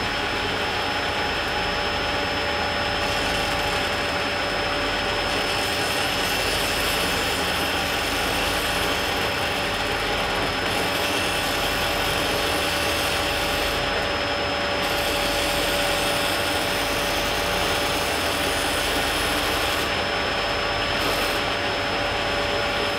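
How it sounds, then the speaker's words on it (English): A shop vacuum cleaner runs steadily throughout during pillar drill and planer woodworking, a loud constant whine and roar that never pauses. "I'll get my vacuum."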